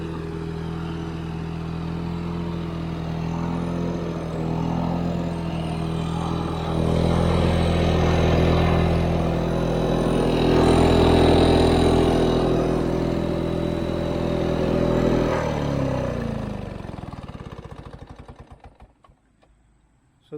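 A vintage Lawn-Boy push mower engine idles steadily with a low, even hum for most of the run, then winds down and cuts off near the end.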